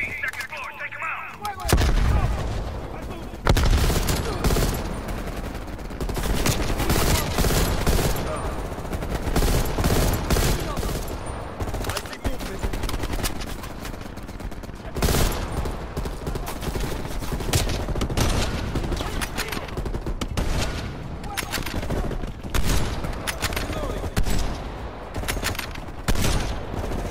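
Heavy gunfire in Call of Duty Black Ops Cold War: loud, near-continuous bursts of rifle fire and booming impacts that run almost the whole length after a short, quieter opening.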